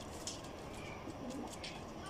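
Iraqi racing pigeons coo softly and intermittently against a steady outdoor background hiss, the calls faint and distant.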